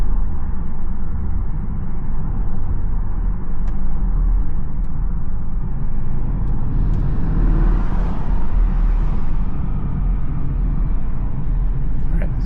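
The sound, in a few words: Porsche Cayenne Turbo exhaust with secondary cat bypass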